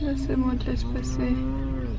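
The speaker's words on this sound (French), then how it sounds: "Ça, c'est des vaches à lait." Dairy cows moo loudly and nearby in a long drawn-out low call heard on a French country road, overlapping a low engine rumble while a person speaks briefly.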